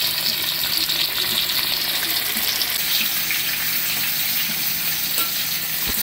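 Food frying in a pan for a set of five fried dishes makes a loud, continuous sizzle and crackle that runs steadily throughout without a break.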